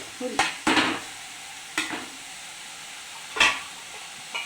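Curry being stirred in a frying pan after salt and turmeric go in, with a few scraping strokes of a spoon against the pan over a soft steady sizzle, spaced apart and close by.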